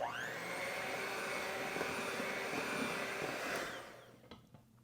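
An electric mixer whirs steadily through lemon squash poppy seed bread batter with baking soda, baking powder and poppy seeds, a loud continuous motor whine that winds down and stops near the end.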